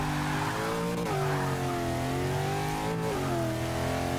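An Ultima GTR 720 engine revs hard at the start of a mile drag race in Forza 6, a loud sustained mechanical drone whose pitch dips and climbs with gear changes, close and with no talk over it.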